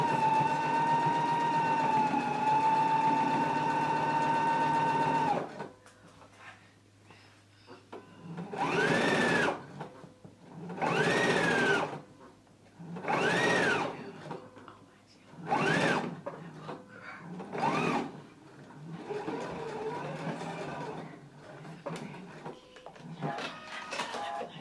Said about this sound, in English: press the flap down and then top stitch right along this upper edge at a 1/4 inch seam